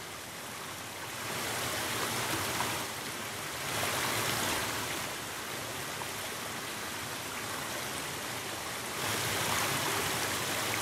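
A flowing stream in the Grand Canyon VR game gives a continuous, moderately loud rushing wash that swells slightly in a few places and continues without a break.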